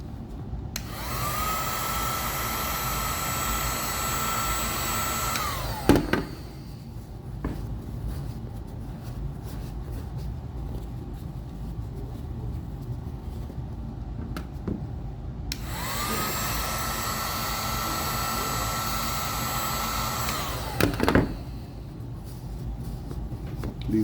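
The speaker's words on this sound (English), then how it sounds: "Be very careful when you use the heat gun too, because it produces a lot of heat." A heat gun blows hot air onto polish on neglected leather dress shoes, two long steady whirring runs of about five seconds each, separated by quiet handling sounds.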